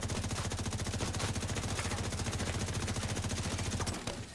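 A weapon in The Division 2 fires a long, unbroken stream of rapid, evenly spaced automatic shots, moderately quiet and steady, before cutting off abruptly near the end.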